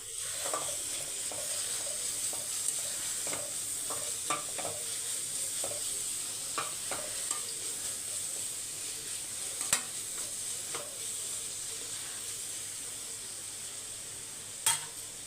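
Fried rice sizzles in a pan with chili powder and fried rice powder stirred in, a steady close frying hiss with scattered light scraping ticks from the stirring.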